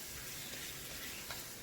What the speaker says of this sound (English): 1 cup of shrimp, and we're just gonna put that one and add it to our garlic, and we're just gonna cook this one really quick